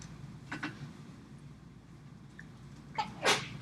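A single sharp human sneeze bursts out near the end, preceded by a softer breathy intake or small sniff, over a quiet room hum.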